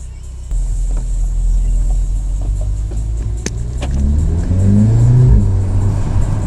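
Volkswagen Golf R with a new aftermarket air intake, driving and accelerating: a loud, close engine rumble that rises in pitch through the gears, with intake roar growing toward the end.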